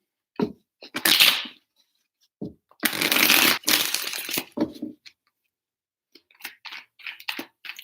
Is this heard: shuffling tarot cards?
yes